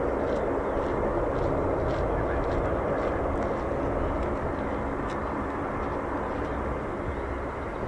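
A military jet on approach with its landing gear down near RAF Lakenheath and RAF Mildenhall, a steady broad roar that holds loud and constant throughout, with no talk over it.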